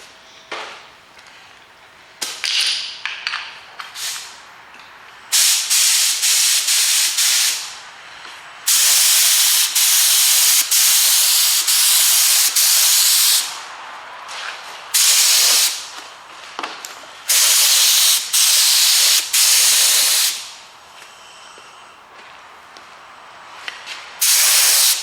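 Aerosol paint sprayed onto an engine rocker cover from a Cosworth engine rebuild in a garage: a series of loud, close hissing bursts of varying length, separated by short pauses.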